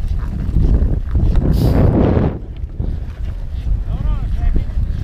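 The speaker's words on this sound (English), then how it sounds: "it's pretty windy right here too" Strong wind buffets the microphone in gusts out on the Moab slickrock, loud and rumbling through the first half and easing to a steadier rush, with brief voice-like sounds near the end.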